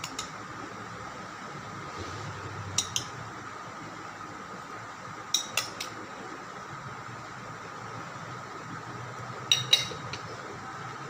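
Chopped cucumber, tomato and green chili spooned onto dahi bhalla, a few sharp metallic spoon clinks against a bowl over a quiet steady background hum.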